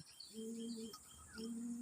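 Pigeons at a pigeon keeper's house give two soft, low coos, one after the other, quiet against faint background noise.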